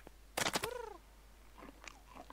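Lumpy the cat in a video game gobbles pigeon-flavored cat food, one quick crunchy bite followed by a descending cartoonish slurp, then a few softer chewing sounds trailing off.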